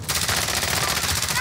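Rapid automatic gunfire from the video game Call of Duty Warzone rattles in a steady, dense stream of shots, loud and continuous throughout.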